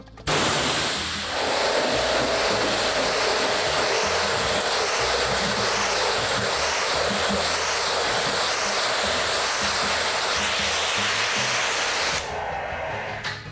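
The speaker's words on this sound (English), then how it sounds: "using the pressure washer, you'll see a little line of suds that I'm just moving across the vehicle" A pressure washer hisses loudly and continuously as it spreads a line of suds across a vehicle, a broad steady spray that cuts off near the end.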